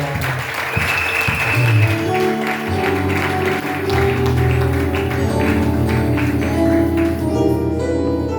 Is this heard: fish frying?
no